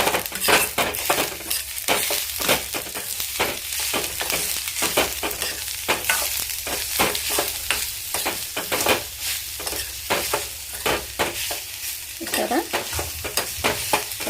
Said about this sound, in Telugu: వేసేసుకుని మరొక్కసారి కలిపేసుకుందాం